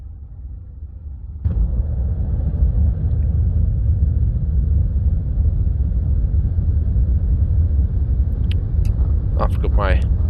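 Aircraft engines in the DCS 2.7 flight simulator spooling to full throttle for a night takeoff at Las Vegas, a sudden jump into a loud, steady low rumble that holds throughout, with a few brief chirps near the end.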